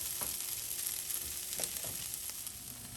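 Butter, flour and half and half cooking in an overloaded pan for chicken pot pie filling, giving a faint, even sizzling hiss with a few soft stirring scrapes, close and without talk.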